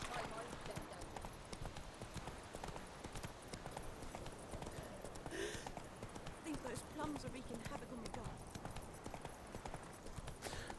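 Roach the horse trots in The Witcher 3, hooves clip-clopping in a quick steady rhythm close by, with someone speaking over the hoofbeats.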